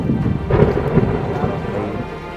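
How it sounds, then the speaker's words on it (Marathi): Loud thunder rumbles over heavy rain during a stormy evening on the Konkan coast near Achara lighthouse, a deep rolling boom peaking early and fading under the continuous downpour. "वीज पडते का हो अंगावरती"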